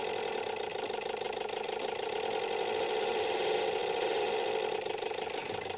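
An engine driven by an ECU simulator runs at a steady idle after being brought down from a rough 4000 RPM, a constant, even mechanical hum at moderate level with no speech over it.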